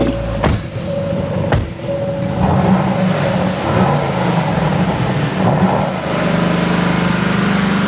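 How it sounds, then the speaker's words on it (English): Aston Martin DBX 707 SUV engine cranking to life with a couple of sharp bursts, then settling into a throaty idle with light revs, close and loud, no talking. "start it up and rev it a little bit"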